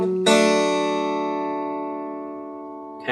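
Two high strings plucked together on a guitar in a lesson on a song, a single bright, clear dyad that rings and slowly decays for a few seconds before another note begins.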